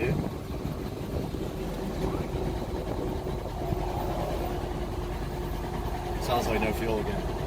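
A car engine struggles and runs rough from fuel starvation, a low uneven idle churning steadily close by while voices talk in the background.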